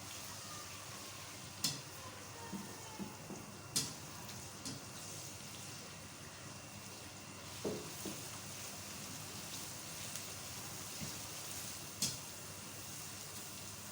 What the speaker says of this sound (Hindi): लहसुन अदरक का पेस्ट डाल दें 1 टेबल स्पून। अच्छी तरह से इसको भूनें।